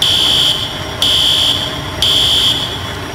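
A building fire alarm set off from a pull station sounds a loud, piercing high tone, pulsing on and off in roughly one-second cycles up close.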